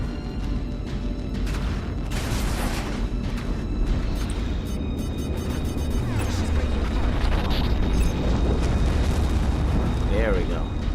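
Torpedo explosions in the space combat game Strike Suit Zero, a dense barrage of heavy booms and crackling blasts rolling continuously under a talking voice.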